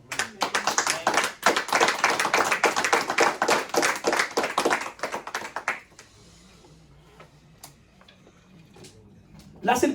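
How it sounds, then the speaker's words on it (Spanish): A church congregation claps loudly and densely for about six seconds, then the applause drops away to quiet room tone with a few scattered taps and a faint voice. "Denle un aplauso a Cristo."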